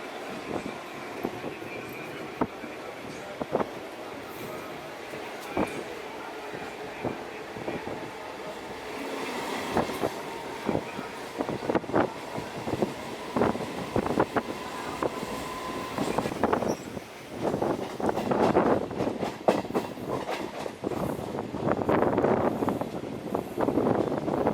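A Southern Railways suburban train runs between Chennai Beach and Tambaram in India. Steady rolling rumble is punctuated by sharp, rhythmic wheel clicks over rail joints, growing louder and busier toward the end, with no talk.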